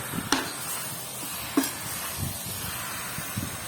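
An egg fries in a pan with a steady, soft sizzle throughout, broken by a couple of sharp utensil clicks and light scraping.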